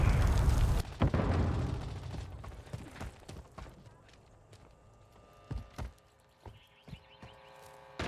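Grenade blasts in a Modern Warfare 3 team deathmatch on the Quarry map: a loud opening explosion with a long rumbling tail, then scattered sharp gunshots and smaller impacts, with brief game voice callouts.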